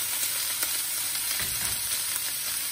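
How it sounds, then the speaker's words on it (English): Green bok choy leaves hitting a hot wok for egg fried rice: a steady, dense, loud sizzle with faint stirring scrapes, no voices. "Now, I'm gonna add the green part of the bok choy in there."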